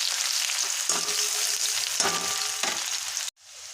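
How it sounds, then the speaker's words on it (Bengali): Onions fry in a pan as ginger and cumin paste goes in, giving a steady bright sizzle broken by a few utensil clinks and scrapes. The sizzle then drops off abruptly and comes back softer. "পেঁয়াজটা ভাজা ভাজা হয়ে গেছে দেখুন।"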